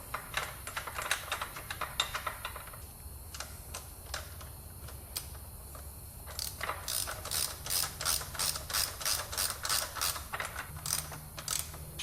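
A ratchet wrench drives a bolt back in while fitting motorcycle rear sets, clicking in quick close bursts, first scattered and then in a fast regular run, with no speech.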